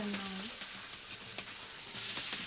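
Fatty pieces sizzle steadily in a very hot frying pan while a mountain dish is cooked, a close and continuous crackling hiss with no voices.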